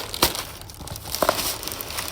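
A package being ripped open by hand during an unboxing, with no scissors: a crinkly tearing burst near the start and a couple of sharper rips a second later, close and moderately loud, with no talking.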